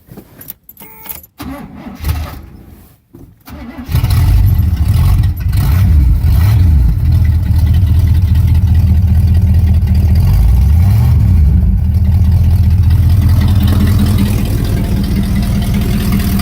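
Keys jingle briefly, then a car engine with an aftermarket dual exhaust starts and idles with a deep, rough exhaust rumble, revving up and down a few times close by.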